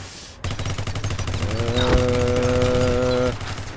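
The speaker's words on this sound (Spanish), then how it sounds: "Cuántos disparos hay que meterte para que matarte" Rapid automatic gunfire from the online shooter Ballistic Overkill, a dense rattling burst that runs almost continuously, with a sustained tonal whine layered in midway through.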